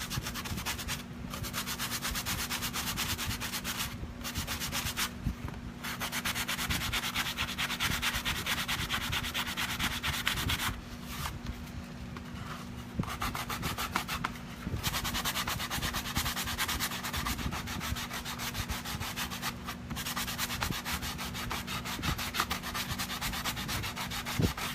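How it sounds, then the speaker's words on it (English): A wooden sign made with Chalk Couture transfers being sanded by hand, steady close rubbing strokes with brief pauses, loud and continuous with no talking. "Let's sand it down a little bit."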